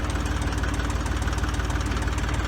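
A Fordson tractor engine idles steadily up close, a loud, even, rapid knocking chug that holds without change.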